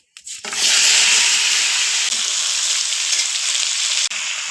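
Sliced potatoes with dried red chilli, bay leaf and whole cumin hit hot oil in a fish-cooking pan, giving a loud, steady, close sizzle that holds for several seconds with no talking.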